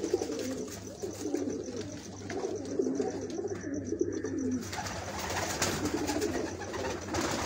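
A pigeon held in the hand gives soft repeated low coos, close and fairly quiet, over steady background hum with no talk.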